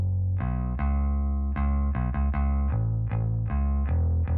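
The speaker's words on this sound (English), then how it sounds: "I use decapitator as a parallel distortion for my bass." A bass line runs through Decapitator parallel distortion, giving a gritty, loud, sustained tone. Repeated notes change pitch in a steady pattern, playing alone with no voice.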